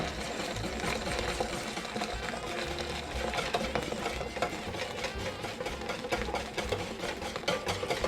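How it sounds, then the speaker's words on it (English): A whisk beats rapidly against the inside of a pot of custard-style mixture as liquid is streamed in, producing a continuous close scraping and clinking rhythm with busy kitchen background noise. "I'm going to slowly start whisking this and just stream it in and whisk"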